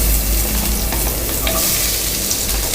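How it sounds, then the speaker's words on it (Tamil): Onions sautéing in hot oil with cinnamon, cloves and cardamom for home-made mutton dum biryani, a loud continuous sizzle and crackle close up, with a little stirring and no talking. "இதை வந்து சிம்மில் வச்சுட்டு நல்லா வதக்கிக்கோங்க"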